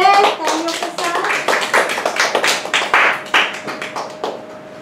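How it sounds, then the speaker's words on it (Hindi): A church congregation clapping in worship keeps a fast, steady beat of close claps, with a brief voice or tone near the start. "हम स्तुति आराधना के लिए प्रभु यीशु का स्वागत करते हैं तालियों के साथ"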